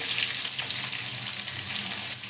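Papaya and carrot pieces frying in hot oil give off a continuous, fairly loud hissing sizzle, with faint soft knocks as pieces are turned and added in the pan; no one speaks.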